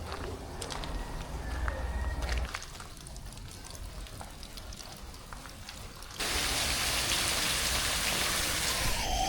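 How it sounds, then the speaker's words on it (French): Rain falls steadily with a crackling patter, growing into a louder, denser downpour toward the end. "Pourquoi il pleut? Parce qu'il y a de l'eau qui tombe des. Ah ouais, il pleut."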